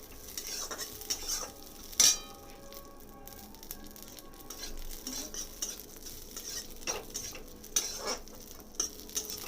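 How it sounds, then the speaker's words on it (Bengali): Cashews and raisins frying in ghee in a pan for basanti pulao, with a soft sizzle under repeated scraping and stirring of a spoon against the metal, one sharper clank near the start, close and quiet, without talk. "আমার কাজু কিশমিশটা ভাজা হয়ে গিয়েছে"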